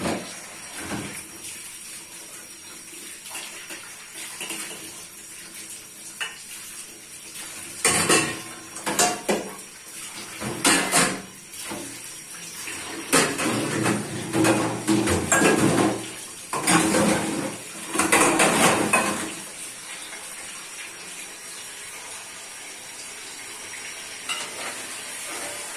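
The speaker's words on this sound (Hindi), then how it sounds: "साथ साथ बर्तन भी धोएंगे।" Pots, pans and dishes get washed under a running tap in a home kitchen in Pakistan, with intermittent clattering bursts and splashing water that build in the middle and fade to a quieter background hiss toward the end.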